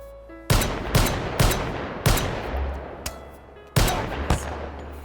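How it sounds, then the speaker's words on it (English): Heavy .50 cal Desert Eagle pistol shots in the VR shooter game H3VR, about eight loud single cracks spaced roughly half a second apart with a pause, each ringing out briefly. "The 50 cal Desert Eagle."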